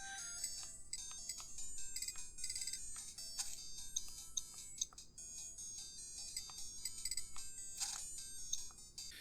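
A bright, beeping Tetris chiptune melody plays steadily from a small handheld arcade game, thin and tinny with quick repeating notes and no voices.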